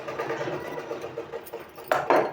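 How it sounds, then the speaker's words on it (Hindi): A sewing machine stitches a neck piping, a fast, steady mechanical whirring with a regular rhythmic chatter, heard close, ending with a couple of louder clicks or handling bumps. "कट लगाने के बाद दोस्तों हमको इस तरह से फोल्ड करके इसमें सिलाई लगा देना है।"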